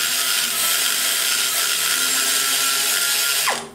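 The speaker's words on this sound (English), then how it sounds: "now we're going to go in here with the ball and we're going to remove the center hump" A ball bit on a die grinder cuts into the center hump of a Chevy LT-1 cylinder head during porting, giving a loud, steady high-pitched metallic grinding whine that holds for several seconds before spinning down at the end.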